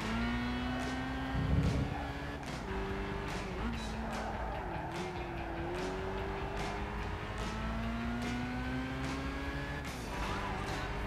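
In Gran Turismo 5, a race car engine drones steadily with shifting pitch as it accelerates and gears change, over faint rhythmic clicks and a brief low thump early on, with quiet talking underneath.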